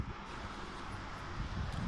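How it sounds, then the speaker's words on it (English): Wind blowing outside the front of an abandoned hotel in Blackpool, a steady broadband roar of gusts buffeting the microphone that swells slightly louder toward the end. "Yeah, it's windy."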